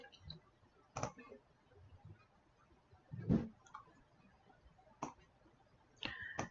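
Clicks from typing on a computer keyboard and mouse while designing a card in Cricut software: a handful of sharp, separate taps spread out with gaps between them, faint and close up, with no talking.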